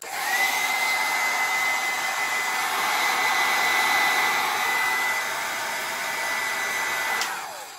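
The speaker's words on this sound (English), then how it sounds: "I'm gonna use a paint burner" A heat gun (paint burner) blows hot air in a steady whining rush for several seconds, then cuts off and winds down.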